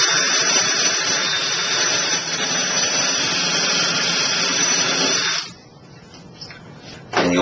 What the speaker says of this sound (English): First, you drill the damaged thread.